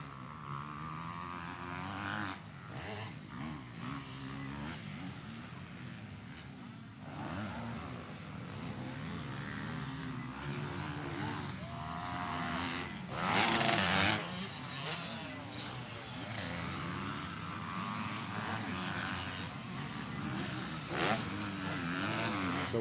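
Honda and Suzuki 125 motocross bikes race at a Loretta Lynn's Northeast Area Qualifier, their engines a continuous buzzing whine that rises and falls as several bikes pass, loudest around the middle.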